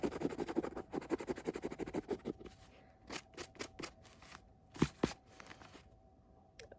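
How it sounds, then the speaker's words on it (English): Dried acrylic and gouache paint scratched off Scotch tape on a handmade scratch-off Valentine card, with crisp scraping strokes that start dense and continuous and then break into separate sharp scratches, close up with no voices. "So I'm gonna try scratching these all off."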